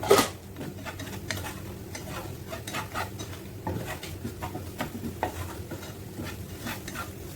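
Spices and onions stirred together in a pan, a spoon scraping in a steady rhythm over a low continuous sizzle, close and moderately quiet, with a sharper knock at the very start.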